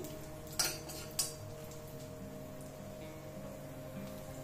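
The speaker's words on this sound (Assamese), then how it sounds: "আমাৰ কাজুকিটাও ভালদৰে লৰাই দিছো" Fried cashews being stirred in a pan, two sharp metal utensil clinks ringing out early, then a quiet low hum of the kitchen with faint scraping.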